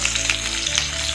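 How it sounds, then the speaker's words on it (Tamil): Sliced large onions sizzle in hot oil in a pan, a close, steady crackling hiss with a low hum running beneath it, no voices. "ஆயில் நல்லா காஞ்சதுக்கப்புறம் நான் வந்து பெரிய வெங்காயம் ஆட் பண்ணியிருக்கேன்"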